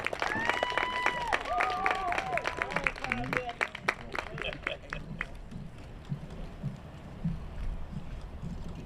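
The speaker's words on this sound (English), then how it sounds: "let's give Ayana Dennis a large round of applause." A crowd claps in a dense burst of applause at a leadership academy stole ceremony, gradually thinning out, with a voice speaking over the start.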